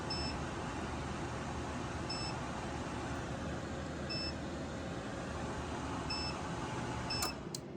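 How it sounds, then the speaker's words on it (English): A faint electronic beep repeats roughly every two seconds over a steady, loud hum of running equipment, a portable power station's overload alarm sounding with its load over 2400 watts. "So you can see it's beeping."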